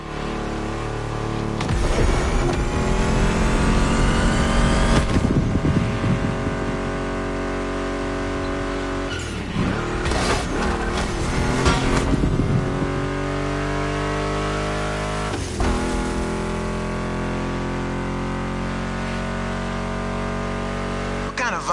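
A Mustang GT muscle car engine in The Crew Motorfest drones steadily and loudly, with repeated revving swells over a continuous mix of music and voice.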